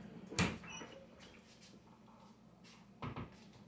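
A drawer is pulled open in a kitchen while searching for a funnel during apple cider vinegar making, giving a sharp wooden clatter near the start and a second rattling bump about three seconds later, with quiet room noise between.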